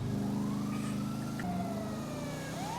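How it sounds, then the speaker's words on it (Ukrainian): A police siren wails and sweeps up and down over a car engine's drone in the roleplay world of GTA 5, a continuous rising and falling tone that shifts pitch as it passes, with no speech. "Опа, поліція поїхала."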